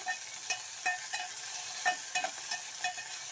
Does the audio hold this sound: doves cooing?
no